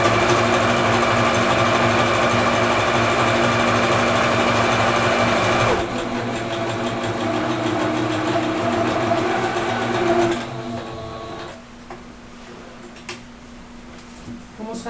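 Close and steady, a sewing machine whirs through a long stitching run on a fabric bag pocket, with backstitching at the ends. The motor fades after about ten seconds, leaving quieter handling noise.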